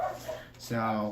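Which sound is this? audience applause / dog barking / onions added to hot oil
dog barking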